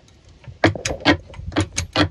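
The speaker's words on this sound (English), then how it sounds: "Look at that ratcheting action" A ratchet wrench clicks in several quick, loud, close bursts with short pauses between them while a car exhaust is being fitted.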